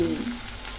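Fish fry in a pan with a steady, close crackling sizzle over a brief moment, with no one talking.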